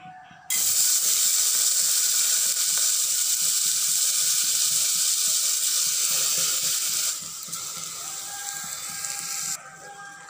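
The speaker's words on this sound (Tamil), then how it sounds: "நல்லா நெய்யோட லைட்டாக ரோஸ்ட் பண்ணி விட்டுக்கோங்க." Rice and lentils roasting in hot ghee inside a pressure cooker make a loud, steady sizzle that starts abruptly, eases partway through and cuts off near the end.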